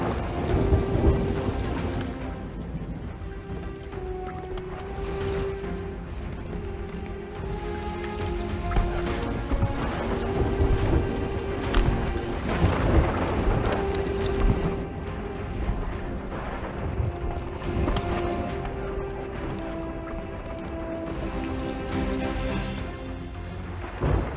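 Thunderstorm with lightning in the video game Sea of Thieves: steady heavy rain with repeated loud thunder cracks and rolling booms, several strikes spread across the scene, with no talking.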